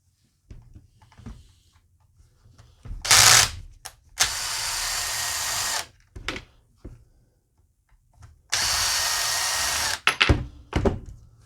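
A power driver backs two T20 Torx screws out of a DeWalt reciprocating saw's head housing, two separate loud whirring bursts of a couple of seconds each with short clicks and handling knocks between them.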